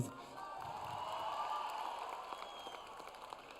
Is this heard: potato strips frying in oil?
no